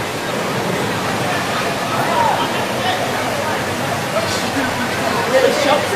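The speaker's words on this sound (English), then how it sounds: "It's still coming in. Still coming in. Huge wave." The 2004 Indian Ocean tsunami surging onto a beach lined with little shops, a continuous heavy rush of churning water under excited voices talking.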